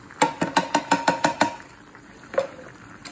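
A spoon beats quickly in a pan of spaghetti bolognese, about eight rapid clinking knocks in steady rhythm, then a pause and one more scrape near the end, close and clear.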